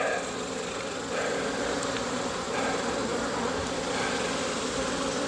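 Honeybees buzzing steadily and densely close by during a corner hive inspection, a continuous loud hum of many insects with no talking.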